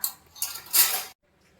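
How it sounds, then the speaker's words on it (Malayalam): Kitchen dishes and utensils clatter as they are stacked, a short burst of clinks and knocks lasting about a second before going quiet. "ഈ പാത്രങ്ങളൊക്കെ ഒന്ന് അടുക്കി വെക്കട്ടെ,"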